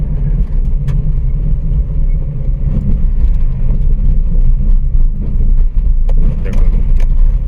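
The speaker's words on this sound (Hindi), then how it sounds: "एक गाड़ी आ रही है सामने, इसको भी डिपर दे दिया जाए।" A car approaches on a night drive through Jim Corbett National Park, its engine a steady, loud, low rumble that holds throughout, with faint clicks and rustles on top.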